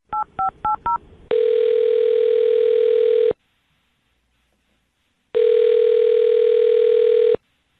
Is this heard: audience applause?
no